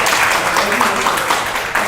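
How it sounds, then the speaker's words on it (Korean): A church congregation applauds in a loud, dense wash of clapping that fills the sanctuary steadily without pause. "우리 한번 장선현 성도님께 박수를 한번"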